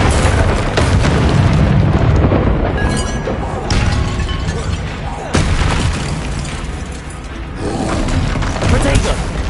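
Loud spell explosions in Hogwarts Legacy, a string of booming blasts and bursts that hit in waves over a dense, noisy battle.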